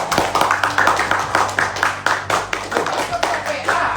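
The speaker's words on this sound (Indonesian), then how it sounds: "Tepuk tangan." Audience applause at a GMNI political gathering in Indonesia, a continuous burst of many hands clapping in rapid, dense rhythm for about four seconds, fairly close and loud, with some voices mixed in.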